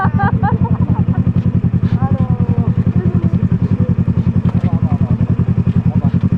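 A manual-clutch motorcycle engine runs steadily close by with a loud, even rapid pulse throughout, while people talk over it.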